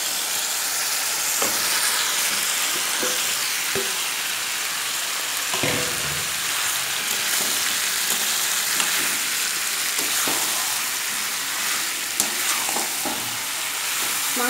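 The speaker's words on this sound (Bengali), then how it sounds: "আদা রসুনটা একটু জল দিয়ে কষানোর পর আমি দিয়ে দিচ্ছি মাংসটা।" Chicken goes into a pan of ginger garlic paste cooked down with a little water, raising a loud, steady hissing sizzle, close up, with occasional thumps and scrapes of stirring and no speech.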